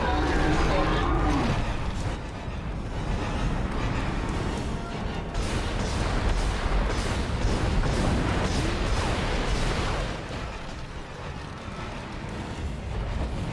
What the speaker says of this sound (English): Shoot it in the back, Isaac.